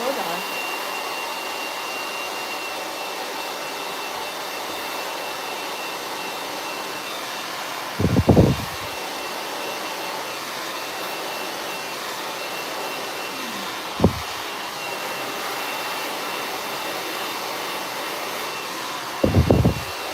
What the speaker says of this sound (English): Hold it taut and blow dry.